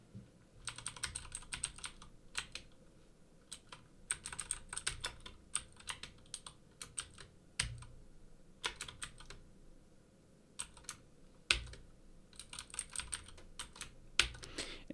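Close, rapid keyboard typing in irregular bursts of clicking keys with short pauses between runs, and the occasional heavier key thump.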